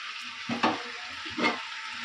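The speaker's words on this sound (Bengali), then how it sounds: "চিকেন মশলাটা দিয়ে দিয়েছি, দিয়ে কষি, একটু কষাবো।" Chicken with chicken masala fries and sizzles steadily in a pan, with two brief bursts of stirring and scraping over the constant hiss, close by and with no talk.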